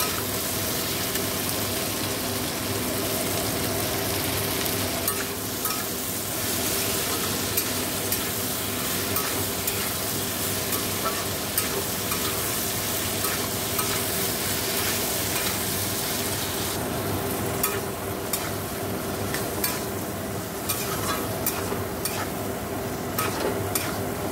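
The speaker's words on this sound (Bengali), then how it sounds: "পোস্তটা দিয়ে দিয়েছি, নাড়াচাড়া করে জল দিয়ে দেবো।" Poppy seed mixture for palm fritters being stirred in a pan, a continuous close sizzle and scraping churn running steadily throughout, with brighter scrapes toward the end and no talking.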